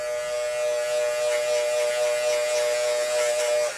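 A hair clipper buzzing steadily and loudly at close range, a continuous electric hum with a strong tonal whine, running alone for almost four seconds before cutting off at the end.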